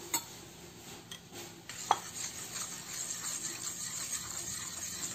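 A spoon stirs a raw egg mixture with a pinch of salt for eggless-fish pempek, giving faint, scattered clinks and scrapes against the bowl over a quiet background.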